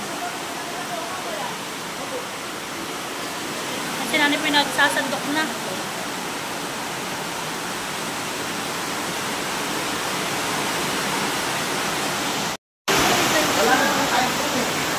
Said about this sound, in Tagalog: At kami po naman ay talagang nilurukan ng ulan